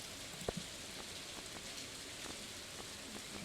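Rain falls in the video game Stardew Valley, a steady soft patter of raindrops with a few brief louder drops, fairly quiet and continuous without voices.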